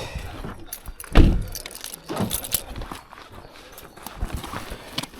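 Car keys jangle in a clinking, rattling burst near the start, followed by lighter metallic shakes and handling noise outdoors on a windy day at a fishery.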